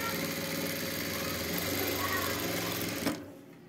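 A Jack F4 industrial sewing machine stitches close up with a steady, fast mechanical whir, then stops abruptly near the end.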